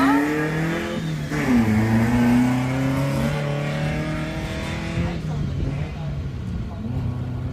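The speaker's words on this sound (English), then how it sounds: "And here is Paul Barron taking off" A single-seat Volkswagen buggy race car pulls away in qualifying at a Montana dirt track, its engine revving upward through shifting gears, loud and close, then easing off as it moves away, with an announcer talking over it.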